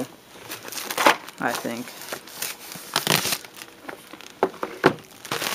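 A cardboard box holding a keyboard is opened by hand, with crinkling, tearing and rustling bursts of packaging at close range, and a person speaks briefly between the sounds.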